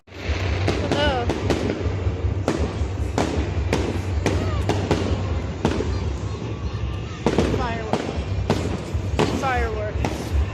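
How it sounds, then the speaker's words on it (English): Bonfire night fireworks go off in a rapid string of sharp, loud bangs and cracks, some close and some farther off, with whistling rockets rising between them and people talking now and then in the background. "Fireworks."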